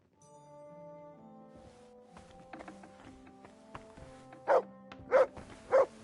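A dog in a video game barks three times near the end, loud and close, after a stretch of soft sustained tones and light knocks; the barks come at a steady, spaced rhythm.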